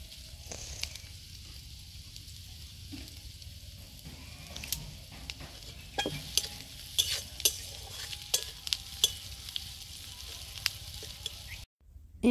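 A spatula scrapes and stirs onion, garlic and chopped chilli frying in a pan at an outdoor jungle picnic, with irregular close scraping strokes over a faint steady sizzle.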